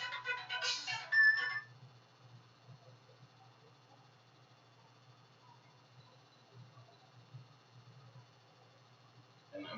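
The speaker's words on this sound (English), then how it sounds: "I'm getting a phone call." A phone ringtone for an incoming call plays a short melodic burst, then cuts off, leaving quiet room hum with a faint voice.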